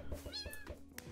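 A cat in a video game gives a short, quiet meow, one brief cry with a slight echo.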